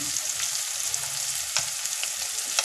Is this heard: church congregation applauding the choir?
no